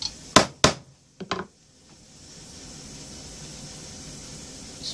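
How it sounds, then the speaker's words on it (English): Leather being punched with stitching holes for a Morakniv bushcraft knife sheath: two sharp, loud near strikes, then two lighter taps, followed by a low steady background hiss. "I got the holes punched through one."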